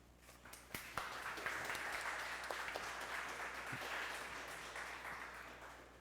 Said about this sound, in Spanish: Así que un fuerte aplauso para Francesc Gascó.